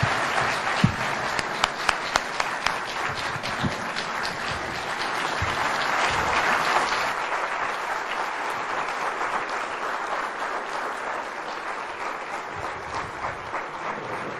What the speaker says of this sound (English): let's just give him another round of applause, ladies and gentlemen, for a wonderful delivery